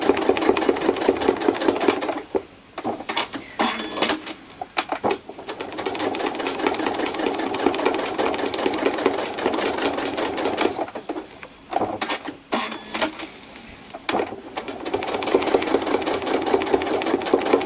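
Sewing machine running for thread art, a continuous fast buzzing stitch close to the microphone, broken by a few short pauses, with no voices.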